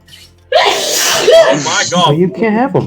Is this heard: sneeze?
yes